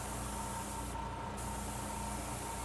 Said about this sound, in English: If you're going to spray heavy, you got to move fast.